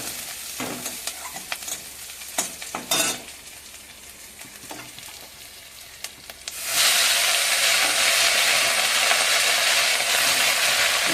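Freshly picked garden saag greens frying in a pan, a spatula scraping and stirring in intermittent clacks before a loud, steady hiss of sizzling takes over and holds, close by and alone.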